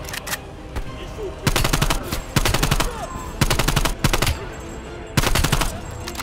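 Bursts of automatic gunfire from the video game Call of Duty Black Ops Cold War ring out in repeated loud, rapid volleys separated by short pauses, over a steady background of game ambience.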